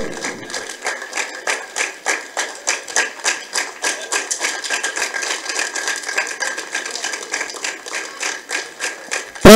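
An audience claps rhythmically in unison at a championship prize ceremony, a loud, steady series of roughly evenly spaced claps close by, carrying on alone for several seconds.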